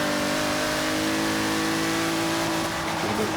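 Pagani Zonda Cinque or Huayra BC engine in Forza Horizon 3 revving hard and steadily, a loud sustained drone with strong harmonics lasting throughout, no voices.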